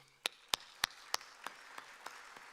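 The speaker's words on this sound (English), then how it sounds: "Let's give them a round of applause." Audience applause at a doctoral hooding ceremony, a short run of sparse, distinct claps that starts crisp and tapers off quickly, fairly quiet and distant, with no voices.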